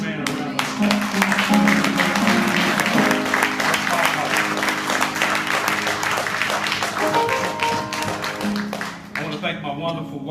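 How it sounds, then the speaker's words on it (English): A church congregation at a Men's Day service gives a round of applause, dense sustained clapping from many hands with voices calling out under it, loud and steady before easing slightly near the end. "Give this man a round of applause."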